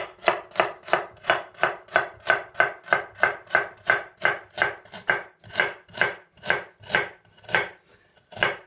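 A knife slices carrots into rounds on a chopping board, about twenty crisp, evenly spaced chops in a steady brisk rhythm, close and clear with nothing else heard.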